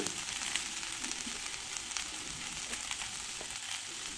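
Cauliflower leaves being stir-fried in a pan give off a dense, continuous hiss of frying, fairly faint and even, with a few light stirring ticks and no voices.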